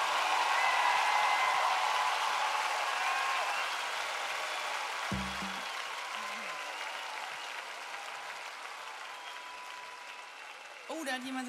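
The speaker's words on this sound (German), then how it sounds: "Applaus für die wunderschöne Laila!" A concert audience at a live show in Dresden applauds steadily, a dense wash of clapping that starts loud and slowly tapers over several seconds, with a brief low thump midway and a rise of cheering near the end.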